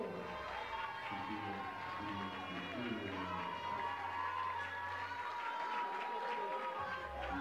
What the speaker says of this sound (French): Merci de bien applaudir pour maman Losso.